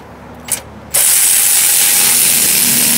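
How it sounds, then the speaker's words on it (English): Snap-on ratchet turning on a fastener, a brief click near the start followed by a loud, continuous rapid ratcheting buzz held close up for the rest of the clip. "This last one, I got my snap-on ratchet."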